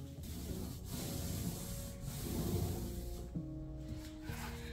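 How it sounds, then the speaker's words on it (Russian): Primer being rolled or brushed onto a wall gives a continuous soft rubbing, scraping sound at close range, steady throughout with slight swells, and no voices. "Нанесем праймер, оставим его сохнуть примерно на 4 часа."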